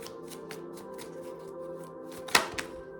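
Tarot cards shuffled by hand up close: a run of soft, rhythmic taps and slides, then a sharper riffle burst near the end, with no voices.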